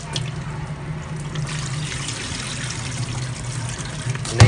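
Tap water runs steadily into a sink or pot while rice is rinsed, making a continuous close splashing and trickling wash with a slight swell at the end.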